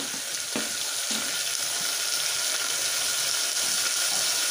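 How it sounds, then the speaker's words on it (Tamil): Small onions and tomatoes frying in hot oil, a steady bright sizzle throughout with a few soft stirring knocks, close and fairly loud. "சிறு வெங்காயமும் போட்டு நல்லா ஃப்ரை பண்ணதுக்கப்புறமேட்டு நம்ம கொஞ்சம் தக்காளியும் போட்டு ஆட் பண்ணிடுறோம்"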